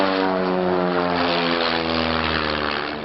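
A propeller-driven aerobatic aircraft flying an airshow display at Old Warden, England, in 1986 gives a loud, continuous engine drone with a steady buzzing propeller tone. It sounds close and sustained, fading slightly at the end.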